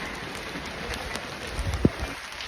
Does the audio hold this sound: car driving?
no